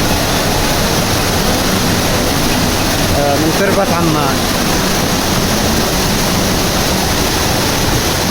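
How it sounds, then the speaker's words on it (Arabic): Tasih waterfall at Al-Radmah in Ibb governorate roars in a loud, steady broadband rush throughout, with someone briefly speaking over it. "بعد عناء ومشقة وصلنا إلى شلال تصيح"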